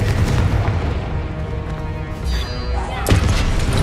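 Confringo explosion spell in the video game Hogwarts Legacy: a loud booming blast with rumbling burst energy that surges again near the end, dense and close.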